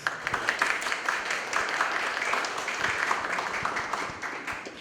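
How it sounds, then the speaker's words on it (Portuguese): An audience at a Theosophical Society lecture on Batuque and Ori worship gives a round of applause, with dense, steady clapping that fades toward the end and faint voices underneath. "Salve de palmas."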